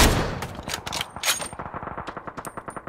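Automatic gunfire in the video game Ring of Elysium, rapid bursts of shots opening loud and echoing, then settling into a steady, evenly spaced string of fainter rounds.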